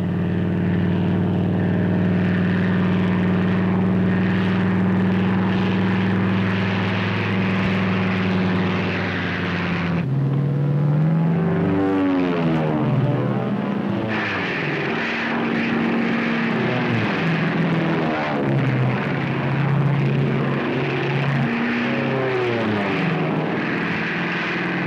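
Propeller-driven P-40 fighter planes roar loudly as they dive low and speed away, engine pitch sweeping and shifting as several aircraft pass in succession, with no talk.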